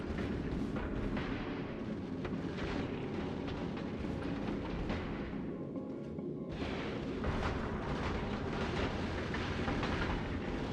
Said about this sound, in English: at the zoomed out level we can hear the railguns much better